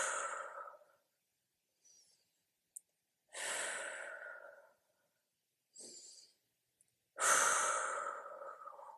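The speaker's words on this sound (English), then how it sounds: "let's go for 5 deep breaths here." Slow, deep breaths taken while holding a lat stretch during a recovery workout: several long breathy inhales and exhales with quiet gaps between them, close and fairly soft.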